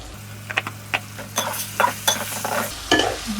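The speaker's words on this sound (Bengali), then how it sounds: "ভালো করে কষিয়ে নিব।" A spiced dried fish curry with chili powder and salt is stirred and fried in a pan, with a spoon scraping and clinking against the pan over a steady sizzle in short, irregular strokes.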